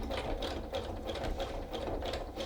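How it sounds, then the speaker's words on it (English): A sewing machine stitching a rope basket with fabric strips, running at a steady hum with a fast, even mechanical clatter of the needle, close and continuous, with no talking. "So I'm going to keep stitching."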